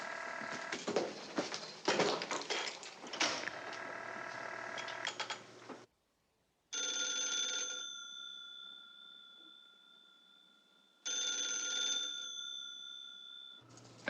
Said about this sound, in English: Answer your phone, Blondie.